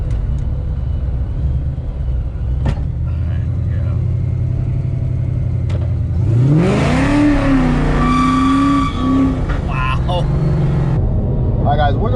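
Supercharged Coyote V8-swapped Fox-body Mustang running on E85 accelerating hard, a loud droning engine that rises sharply in pitch about halfway through, heard from inside the car.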